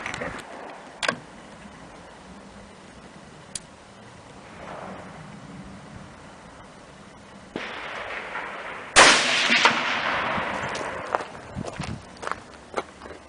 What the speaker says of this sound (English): Let's take 3 shots and we'll do a fine adjustment after these 3 shots.